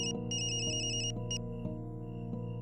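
A phone ringtone sounds for an incoming call, a melodic electronic tone that repeats in regular cycles over a soft musical background.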